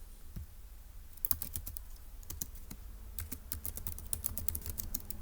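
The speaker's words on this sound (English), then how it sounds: "let's go ahead and just type up in our notes that the solution" Typing notes on a computer keyboard for a Turing Machine logic puzzle: quiet, close key clicks in quick irregular runs, with a brief pause near the start.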